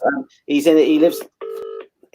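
A phone dials out with a quick run of DTMF keypad tones, loud and close, set between stretches of someone talking.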